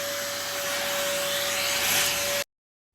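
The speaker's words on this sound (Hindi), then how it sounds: "तो जी वैक्यूम क्लीनर का इफ्तिताह हो गया और हमें पसंद आया।" A newly bought household vacuum cleaner runs loud and close in a steady whooshing roar with a constant whine, then cuts off abruptly after about two and a half seconds, leaving silence.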